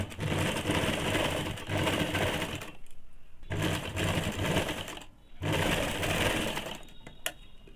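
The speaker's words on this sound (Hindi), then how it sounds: "इस प्रकार से पकड़ के सिलाई कर लेंगे।" A sewing machine stitches a ladies' scarf (muffler) in three loud, close bursts of steady whirring, each broken by a short pause, with a small click near the end.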